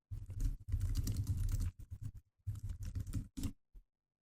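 Fast clicking of a computer keyboard as code is typed, in two steady runs of keystrokes with a short pause between, close and fairly quiet, no voice.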